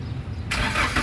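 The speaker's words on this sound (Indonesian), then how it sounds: "pada saat kita nyalakan mobil, pastikan bahwa nyalanya itu jreng." A Daihatsu Gran Max 1.5 manual's engine cranks and catches partway through, jumping from a low rumble into a loud, steady run that carries to the end, with no voices.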